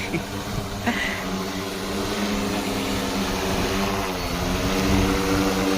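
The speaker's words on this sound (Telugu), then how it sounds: "ఇంకా హెలికాప్టర్ అయితే ల్యాండ్ అవుతుంది డ్రోన్ హెలికాప్టర్ చిన్నదే" A steady droning engine hum with buzzing harmonics holds throughout, rising slightly in loudness toward the end, from a small drone helicopter landing nearby.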